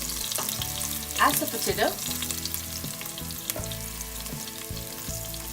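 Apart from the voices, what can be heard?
green chilies, garlic and turmeric sizzling in hot oil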